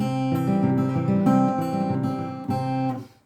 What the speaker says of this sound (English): the picking pattern is going to sound like this